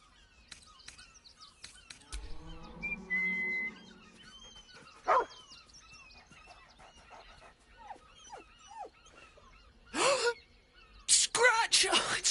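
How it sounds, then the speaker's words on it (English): A dog in a video game gives several short barks, spaced apart, amid spoken dialogue and chirping bird calls. "He's a good dog."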